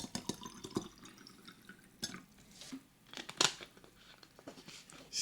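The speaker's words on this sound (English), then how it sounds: "refill my water here" Water trickles and drips unevenly into a bottle being refilled, with irregular splashes and a few clinks against the container, close by and moderately quiet.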